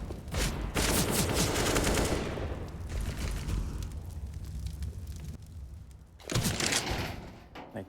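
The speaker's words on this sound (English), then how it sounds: "Molotov nade combo." A Molotov and a grenade go off together in Counter-Strike on the Mirage map, with bursts of crackling fire and blasts, dense noisy roars in waves and a loud final burst near the end.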